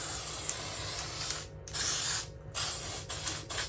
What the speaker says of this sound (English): gold spray.